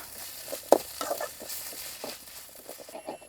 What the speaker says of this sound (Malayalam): ഇനി നമുക്കിതിൽ ഇതൊന്ന് പച്ചമുളകൊക്കെ മാറുന്നവരെ വഴറ്റിയെടുക്കാം